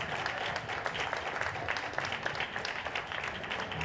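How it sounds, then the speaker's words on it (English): Crowd applause for the women's winner at the Street Workout Nordic Championship 2024, a sustained wash of many hands clapping at moderate level, steady throughout with no voice on top. "Give a big round of applause for Marta from Sweden."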